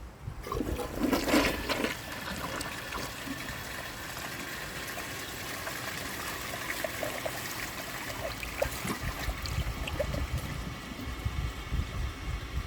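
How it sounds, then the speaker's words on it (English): A 1991 Kohler Wellworth toilet flushes with a grocery bag in the bowl, giving a loud rushing gush of water that settles into a sustained swirling drain and trickle, with no talking. "So I'm going to give this a second flush."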